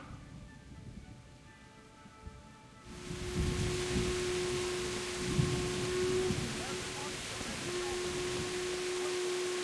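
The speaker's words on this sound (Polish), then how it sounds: "Trąbią." Game horns sound a long sustained blare that starts a few seconds in and holds steadily over a broad rushing wash, following a quieter stretch with a low hum.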